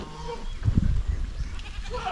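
A goat on a farm gives a single close, wavering bleat, with faint background sound around it.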